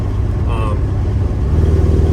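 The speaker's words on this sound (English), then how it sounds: "Exhaust sounds better too." A 1967 Lincoln Continental with Holley Sniper EFI rumbles steadily from its exhaust at close range, an exhaust leak now fixed, a low continuous drone that grows slightly stronger toward the end.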